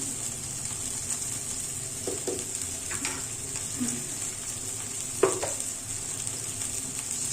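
Ginger garlic paste sautéing in a clay pot, a soft steady sizzle with a few scrapes and clacks of stirring spaced through it, no talk.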